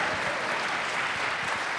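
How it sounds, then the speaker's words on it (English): An audience at a Wayne State lecture-series anniversary event gives a short round of applause: steady, dense clapping that fills the whole brief moment without a break. "You can give her a little round of applause."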